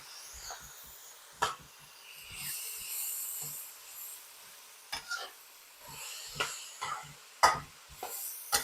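Food stir-fried in a hot Yosukata carbon steel wok, soft sizzling and hissing with intermittent sharp scrapes and clanks of the utensil as it is tossed and turned, close and without talk.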